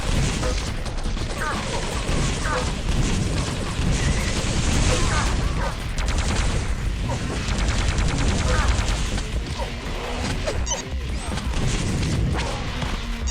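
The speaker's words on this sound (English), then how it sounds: "Rocket launcher putting in some work." Rocket launcher blasts and explosions from a Quake 3 Arena deathmatch on the Camping Grounds map, a dense, continuous barrage of booms and gunfire thuds mixed with other weapon fire throughout.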